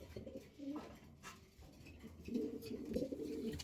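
Kashmiri racer pigeons cooing at a fancy pigeon farm, soft repeated throaty coos in two bursts, close and fairly quiet with faint background noise between them.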